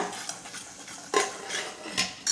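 Sambar powder stirred into hot oil in a pan: a spoon scrapes and clinks against the metal in a few short strokes, close and fairly quiet, with a faint sizzle underneath.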